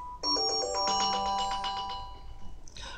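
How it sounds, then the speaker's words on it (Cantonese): Loud ringtone from an HTC One E8 phone's top and bottom dual speakers, a sustained bright chiming melody with layered harmonic tones swelling then fading, alone without speech. "上下都會有，咁其實就個鈴聲真係好大聲嘅"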